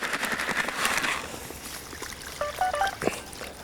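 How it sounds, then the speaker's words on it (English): Fishing pellets tipped into a tub of water, a soft close sprinkling and trickling patter for a few seconds with small splashy bursts, no voices. "Add my pellets to the water."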